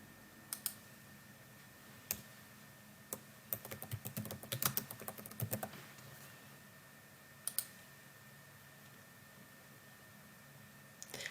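Quiet, close computer mouse clicking: single sharp clicks spaced apart, with a faster cluster of clicks in the middle, against faint room hiss.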